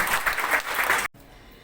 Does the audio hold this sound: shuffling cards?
no